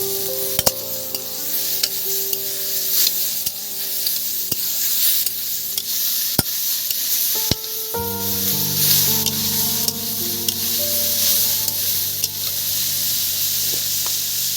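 Ginger, garlic and chili paste frying in oil for chicken curry, a continuous loud sizzle with stirring scrapes and sharp clicks of a utensil against the pan, a burst of fresh hissing midway.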